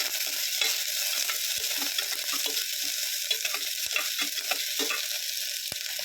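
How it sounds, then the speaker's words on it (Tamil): Large onions sautéing in oil, a bright steady sizzle with frequent spatula clicks and scrapes against the pan, close and uninterrupted by voices. "பெரிய வெங்காயம் போட்டாச்சு. நல்லா இது பண்ணிக்கலாம். நல்லா வதக்கிக்கலாம்."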